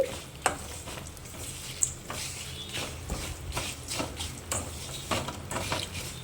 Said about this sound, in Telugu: మంచి వాసన వస్తుంది ఆ వాసన వచ్చేంత వరకు వీటిని వేయించుకోవాలండి